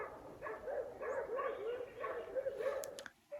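Dogs bark excitedly in the Alaskan wilderness, giving a steady run of repeated, slightly muffled barks and yips at middle distance. The barking continues for several seconds, and the last moment cuts to near quiet.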